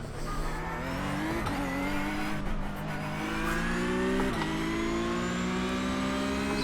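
Porsche Cup race cars in an iRacing sim at Charlotte roar off the start, engines revving up through the gears in rising pulls, with gear-change dips and a slight tire squeal, loud and continuous.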